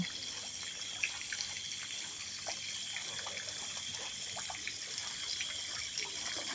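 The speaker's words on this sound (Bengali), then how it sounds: "একটি আর্টিফিশিয়ালি ক্রিয়েটেড ঝর্ণা," Water pours from an artificial waterfall at an eco resort, a steady rushing wash with scattered splashes and drips throughout and no voices.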